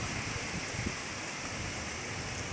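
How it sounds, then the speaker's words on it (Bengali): Heavy rain falls after a cyclone, a dense continuous hiss with gusting wind, steady and fairly faint throughout. "কিন্তু তারপরে প্রচণ্ড বৃষ্টি হচ্ছে আর হাওয়াও দিচ্ছে।"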